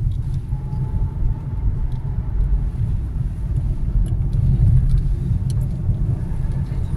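A car drives along a winding mountain ghat road, its engine and tyres making a steady, low, close rumble with faint clicks and rattles on top and no talking.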